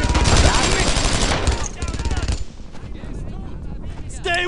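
Rapid automatic gunfire and shots from the WWII shooter Brothers in Arms: Earned in Blood, loud and dense, with a voice shouting over the bursts before the firing thins out.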